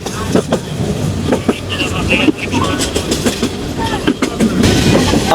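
The Joyantika Express passenger train rolls along the rails from Dhaka's Kamalapur station toward Sylhet with a steady rumble and rhythmic clacking, close and continuous, with some voices faintly mixed in.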